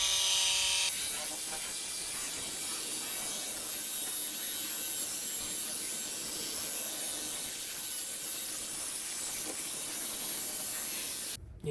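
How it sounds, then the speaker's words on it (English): An SPTA Mini polisher works on Porsche Exclusive carbon wheels, a steady whirring buzz with a hissing edge that holds level throughout and cuts off abruptly at the end. "let's get it cranked up and do some polishing"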